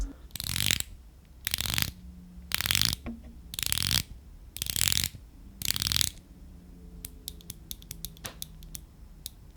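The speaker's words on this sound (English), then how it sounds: "a 120 click unidirectional bezel. If you want to hear that, just listen to this." A Seiko Sumo Prospex SPB103J diver watch's 120-click unidirectional bezel being turned close up, in five quick bursts of rapid ratcheting, then a scatter of slower single clicks.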